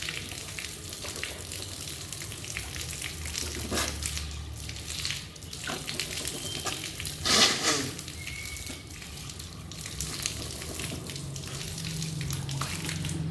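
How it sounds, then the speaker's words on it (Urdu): Running water splashes and trickles during ablution as a person rinses the mouth and nose, a soft continuous stream broken by small slurps and splashes, fairly quiet throughout. "اب ہم ناک اور منہ میں ایسے پانی چڑھائیں گے۔"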